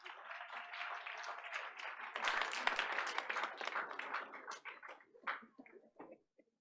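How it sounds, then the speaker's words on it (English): An audience at a school board of education meeting applauds, a dense sustained burst of clapping that swells, holds for several seconds, then thins out to a few last claps. "Let's give him a warm hand of applause."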